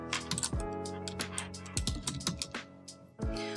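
Keys on a computer keyboard are typed into a search bar in short, quick clusters of close, crisp clicks separated by brief pauses.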